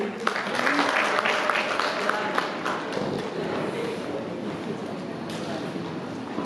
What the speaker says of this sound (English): a round of applause for Valerie